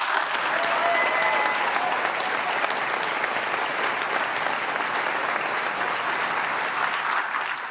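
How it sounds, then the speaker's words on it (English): Sustained, dense applause from a large audience fills an award ceremony hall, holding steady at full strength throughout with a faint background murmur. "I think she deserves another round of applause."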